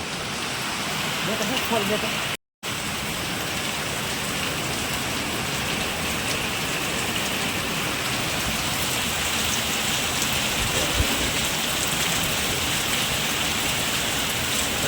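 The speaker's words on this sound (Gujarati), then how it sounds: "વરસાદ આવ્યો જો દોસ્તો" Rain pouring in a rural village, a loud, dense, unbroken hiss of drops on surfaces heard close, with one brief gap of silence early on.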